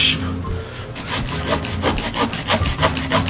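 A saw rasps steadily back and forth through a hard baseball, rhythmic strokes close by, with no talking.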